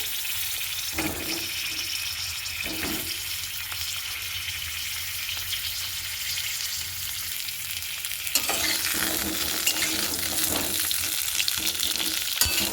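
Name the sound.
pointed gourd (potol) frying in oil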